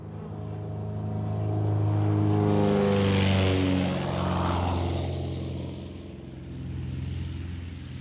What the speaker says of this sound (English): Okay, I was airborne at 1139 for the adventure of a lifetime.